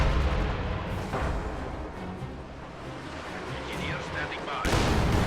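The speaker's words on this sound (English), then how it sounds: "That was a really nice opening barrage. So that Katyusha made a very grand entrance." Katyusha rocket artillery barrage in a video game, a loud rolling roar of launches and impacts that swells, dips in the middle, then surges again in a heavy burst near the end.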